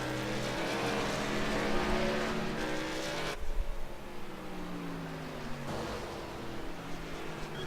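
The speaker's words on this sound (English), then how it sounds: "I might go ahead and head down pit road and jump in the truck and take a couple laps" A race truck rolls along pit road on a flat track at a 40 mph pit speed limit, a steady engine drone that drops in pitch partway through and then climbs again, heard alone with no talk.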